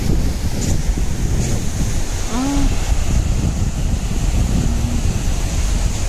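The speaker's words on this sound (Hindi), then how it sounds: "और ये है हमारा बीच।" Wind buffets the microphone while surf rolls in at an Indian beach at high tide, a loud, constant rushing wash with no distinct wave breaks.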